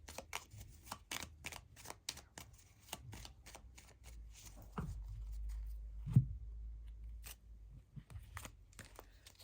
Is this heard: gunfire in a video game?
no